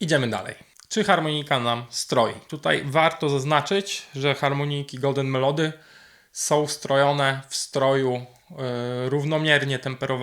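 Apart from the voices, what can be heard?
No distinct noise like a dog, phone or traffic.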